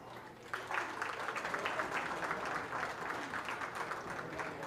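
A round of applause for exhibitors at the 2025 Belmont County Fair open beef show: dense, even clapping from a crowd that swells quickly and holds steady for several seconds at a moderate distance.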